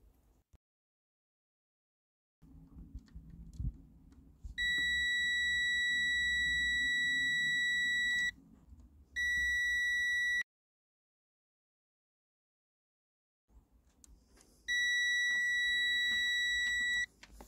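A fuse tester beeps as its probes touch the tops of car blade fuse terminals in situ, giving steady high-pitched tones of a few seconds each, one long, one short, then another long, with quiet handling noise between.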